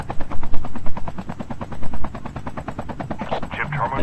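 A helicopter flies in the Call of Duty Mobile video game, its rotor beating in a loud, fast, steady chop throughout, with bursts of gunfire-like crackle near the end.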